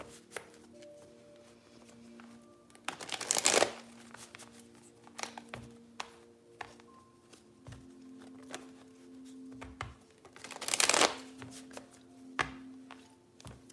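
Tarot cards are shuffled in two brief riffling bursts amid quiet tapping and handling noises, soft and close with no talk.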